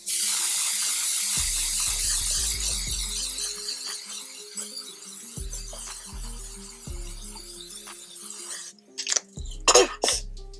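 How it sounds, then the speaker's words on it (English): A long, steady hissing spray of matte setting spray onto a face runs for several seconds, then trails off, followed by a few low knocks and some brief rustling near the end. "I know that seemed like a long spray,"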